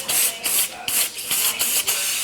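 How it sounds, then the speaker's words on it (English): Disinfectant spray hitting a pair of very old hair clippers in a barbershop, several short hissing bursts in quick succession, close and fairly loud with brief gaps between them. "Obviously, we're gonna disinfect the clipper"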